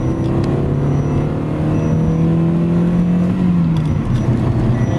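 Great Wall car running on STAG LPG gas, climbing a slope in second gear, its engine holding a steady hum with a slowly rising tone, close and alone.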